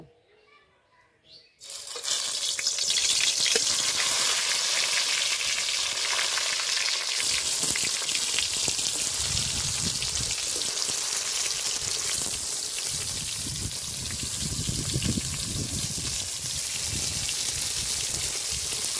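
Pointed gourd (potol) pieces hit hot oil in a wok with a sudden loud sizzle after a short quiet start, then a steady, close frying hiss with faint clinks.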